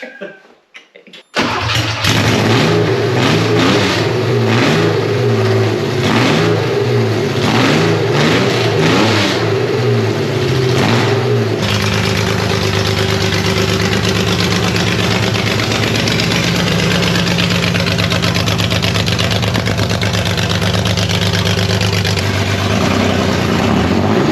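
A restored Porsche 911 engine starts for the first time with a sudden roar, revs hard several times with a raw, unmuffled rasp from no exhaust fitted, then settles into a loud, rough idle.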